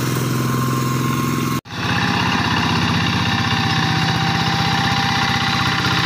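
A Tl800 tractor engine revs hard during a maneuver, a loud, steady throbbing roar that cuts out abruptly for a split second before surging back and holding at full volume.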